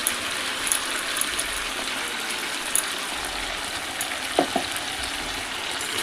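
Onion-spice paste frying in a pan for Bengali palak chicken, a steady close hiss of sizzling oil with a few light clicks of stirring, no voices.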